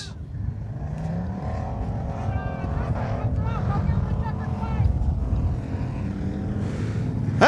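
Racing motorboats at the Kahnawake Marina Super Series heat run at full throttle. A continuous heavy engine roar comes from several boats, with whining passes rising and falling over the top.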